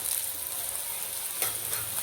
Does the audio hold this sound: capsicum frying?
yes